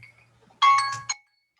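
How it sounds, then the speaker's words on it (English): A single bell rings in a quiet meditation setting, one bright ringing strike with a second softer tap just after, decaying quickly into silence over a low hum. "They ring the bell."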